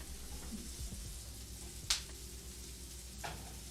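Kale with lemon cooks in a pan, a soft, even sizzle running throughout with a sharp tap or click near the middle and a faint clatter toward the end, with no voices.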